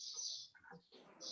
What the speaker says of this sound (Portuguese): É os pássaros estão aqui no fundo.